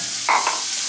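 Onions sauteing in hot oil in a pan for a seafood, sausage and corn chowder, a steady hissing sizzle with a brief stir-like rustle, close and alone.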